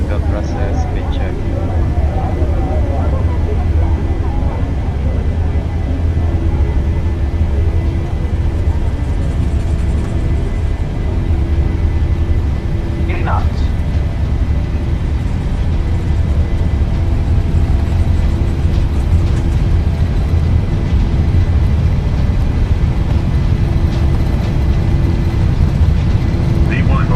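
Airliner engines roaring through the takeoff roll in Microsoft Flight Simulator 2020, a steady, loud low rumble lasting the whole stretch while a voice occasionally talks over it.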